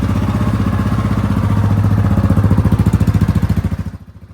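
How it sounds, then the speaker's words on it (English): A Kawasaki KLR 650 motorcycle engine runs loud and close after an oil change, a steady thumping single-cylinder idle that pulses more distinctly before cutting off near the end. "Turn the bike on, let it run for a minute."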